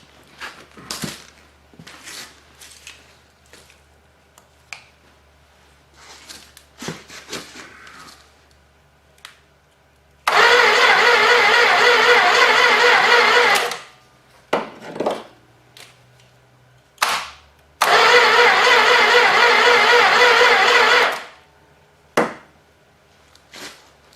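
A 318 engine is cranked by the starter in two long, loud bursts of several seconds each without catching, set between scattered clicks, knocks and handling noises.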